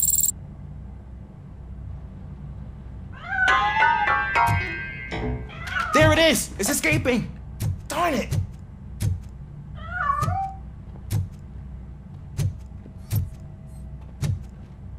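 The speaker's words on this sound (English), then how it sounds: "That cat must be hiding inside. Let me lure it out." A cat in the video game RoboCop: Rogue City, several close meows and a drawn-out caterwaul over a low hum, followed by sharp thuds, with someone speaking briefly.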